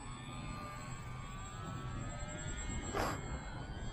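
A Cessna 182 RC model airplane, a 1200mm 4-channel EPO kit, flies overhead with a steady, moderately distant electric motor whine, rising slightly in pitch and loudness near the end.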